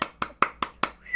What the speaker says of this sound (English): We're a round of applause for you.